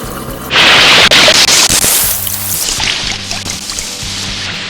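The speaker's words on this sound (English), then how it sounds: "the first step for poha is to wash. Wash it really well for around 30 seconds." Poha, flattened rice, is rinsed in water, with a loud rush of pouring and sloshing water followed by softer swishing and dribbling as the flakes are washed.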